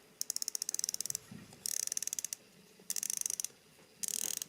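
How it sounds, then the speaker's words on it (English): Rotating bezel of a Zelos Mako V3 Meteorite dive watch, turned in four bursts of rapid, crisp ratcheting clicks, close and bright, with short pauses between turns and no talking. "Let's hear the bezel action."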